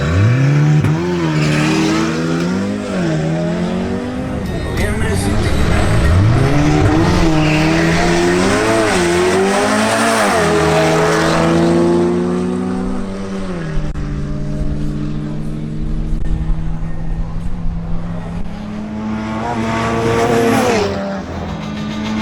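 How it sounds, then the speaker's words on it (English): Volkswagen Golf GTI and Audi RS3 launching side by side in a drag race, loud engines rising through the gears with sweeping pitch changes, continuous and close, with a brief tire squeal and no talk. "Next up, Hernan Giraldo in his Volkswagen Golf GTI faces off against Jason Espitia in his Audi RS3."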